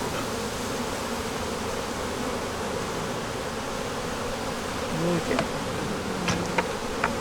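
Honey bees buzz steadily at an open hive entrance, a dense continuous drone with a few louder individual bees passing close near the end; a brief spoken word breaks in once.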